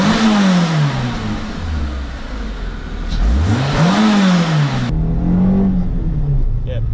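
A Renault Clio 182 Cup engine revving with the aircon on, rising and falling through several loud close sweeps that climb, drop and hold, then settle near idle, with no talking.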